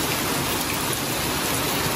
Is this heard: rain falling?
yes